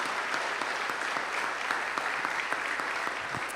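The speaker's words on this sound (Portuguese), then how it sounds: "Aplauda o Senhor por esse testemunho tão forte." A church congregation applauds steadily throughout, dense clapping at even, full loudness with no talk over it.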